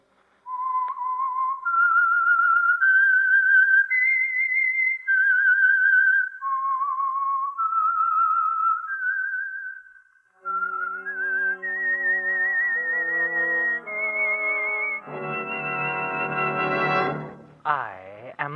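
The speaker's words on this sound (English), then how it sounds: "That whistle is your signal for the Signal Oil Program" A whistled theme tune, the signal for a radio mystery program, plays as a clear solo melody of sustained, gliding notes, then continues over a swelling orchestral accompaniment that builds to a loud close.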